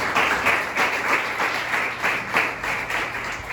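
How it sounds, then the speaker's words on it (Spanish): A church congregation claps during a Sunday morning service, a steady, moderately loud applause with a faintly pulsing rhythm, some hands beating together in time, with no speech over it. "Denle ese fuerte aplauso al Señor en esta mañana."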